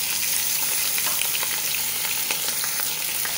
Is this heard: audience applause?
no